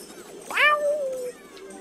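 A single cat meow, close and clear with a rising then falling pitch, heard over quiet background noise during a Mario Kart Wii gaming session.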